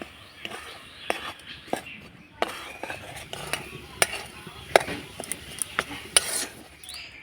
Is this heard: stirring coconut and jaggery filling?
yes